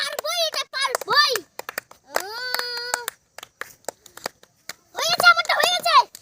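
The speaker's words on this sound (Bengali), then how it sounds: "সুন্দর করে হাততালি দাও" Children clap their hands during a playful classroom game, a short patter of claps between stretches of kids' sung and spoken voices.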